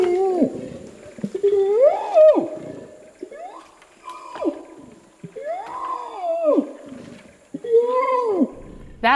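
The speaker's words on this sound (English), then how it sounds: "That last sound you heard was an orangutan." Orangutan calling in the Borneo rainforest, a series of loud, close, groaning and bellowing calls that rise and fall in pitch, separated by short pauses.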